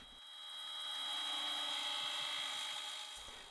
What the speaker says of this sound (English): I'm drilling out the corners where the control panel will be for the actual amp. I'm using a 3/4 inch Forstner bit to do that